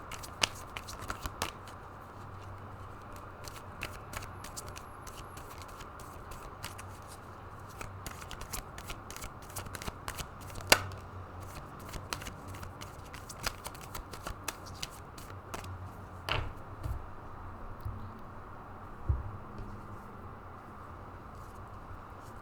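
Tarot cards shuffled steadily by hand, a soft continuous riffling with scattered crisp snaps and slaps, close and fairly quiet, no voices.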